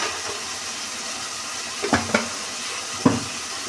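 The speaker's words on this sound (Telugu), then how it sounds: "ఈ మొత్తం కలుపుకోవాలి." A spoon stirs turmeric, chili powder and salt in a pan for cauliflower curry, a soft sizzle running underneath, with a few brief scraping clinks of the utensil against the pan.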